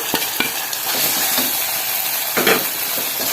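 Spices for a curry, including asafoetida, ground pepper, cumin and dried chillies, sizzling in hot oil with a constant loud hiss and a few clinks of a stirring spoon.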